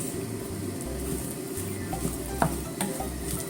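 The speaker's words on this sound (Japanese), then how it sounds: "そしたらあったかいうちにね混ぜますよ。" A spoon stirs warm boiled potatoes for potato salad mixed with sugar and vinegar in a bowl, giving soft, close scraping and occasional light clinks over a low background hum.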